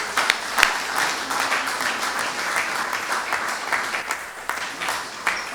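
Moderate audience applause at the Venice Golden Lion award ceremony, a steady patter of clapping with a few sharper individual claps standing out, heard at some distance.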